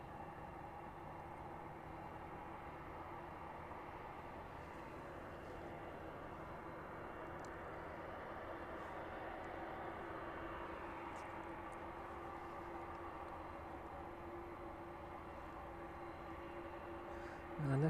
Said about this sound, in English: And this one will be the final departing aircraft on this evening's stream